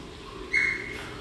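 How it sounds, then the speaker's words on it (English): A river otter named Charlotte gives one soft, brief high chirp that fades quickly over a quiet background. "That was a little chirp from Charlotte."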